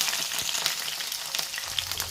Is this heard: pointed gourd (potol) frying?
yes